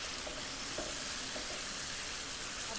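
Okra masala sizzles steadily in a hot pan while being stirred, a dense, continuous frying hiss with a few faint scraping touches and no voices.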